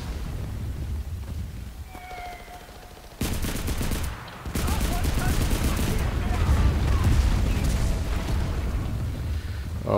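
Video game gunfire in Enlisted, a World War II shooter with rifles and assault weapons such as the Sturmgewehr 44: dense battlefield bursts and booming shots, loud and continuous, with a pause after the first few seconds and then steady heavy fire.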